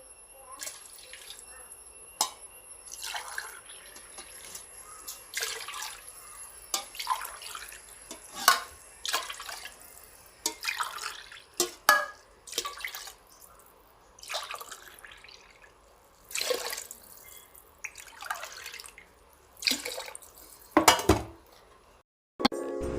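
Water is added glass by glass to a pot for Ayurvedic karkidaka medicinal rice kanji, heard as repeated short splashing pours and drips, separated by pauses and light clinks of vessels nearby.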